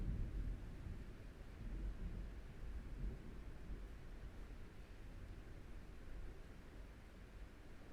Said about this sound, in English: I lost power due to the thunder.